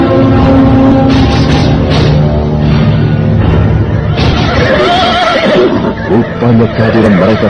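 Horses neigh and whinny loudly in a cavalry scene from an audio drama about mounted Majapahit soldiers, several overlapping calls in quick succession over a dense rumbling background.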